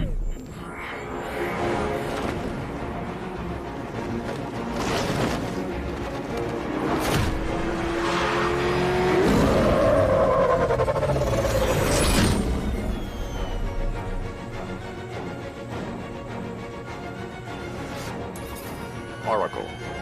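A car speeds through the streets in the video game Batman Arkham Knight, its engine surging and rising in pitch amid crashes and impacts, with voices talking over the action.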